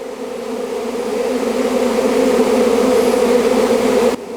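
Bees buzzing around a hive, a steady close drone holding at a low, even pitch and growing slightly louder before it cuts off near the end.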